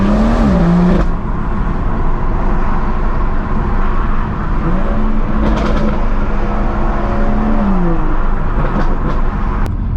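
BMW M140i with a new exhaust driven in Sport Plus with the windows down, a loud continuous engine drone with the pitch rising and falling through shifts, plus road and wind rush.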